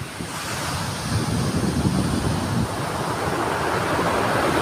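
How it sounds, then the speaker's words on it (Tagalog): Ocean waves crashing on a shore in a continuous loud roar of surf, with wind buffeting the microphone throughout and no one speaking. "Taas ang alon."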